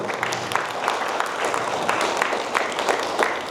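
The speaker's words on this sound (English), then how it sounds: "Let's give a huge round of applause to all the mothers and to all the fathers who are present in the auditorium" An auditorium audience applauds mothers and fathers at a school gathering, a dense, steady patter of many hands clapping throughout with no voices over it.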